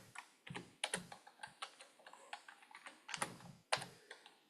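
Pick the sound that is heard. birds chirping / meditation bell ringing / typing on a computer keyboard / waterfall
typing on a computer keyboard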